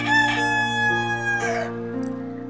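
A rooster crows in a long, ringing call, followed by a second shorter crow, close and clear with no speech.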